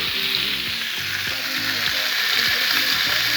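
Rump steak fries in a pan with a loud, constant hiss of sizzling fat and small crackling pops, close and steady throughout.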